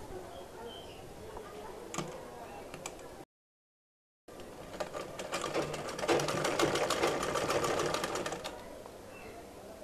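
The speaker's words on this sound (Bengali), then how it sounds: "তো বন্ধুরা সাইড সেলাই করা হয়ে গেছে" Sewing machine running a side seam on a lehenga made from an old sari, a steady close whirring stitch that swells louder in its second half after a short break, with no talk.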